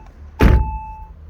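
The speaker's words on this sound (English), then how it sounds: "Quite good heavy sounding doors" A heavy car door on a Saab 9-3 Turbo Convertible shuts with its window down, making one solid, close thud that decays quickly, with a faint steady hum beneath.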